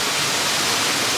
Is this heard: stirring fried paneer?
no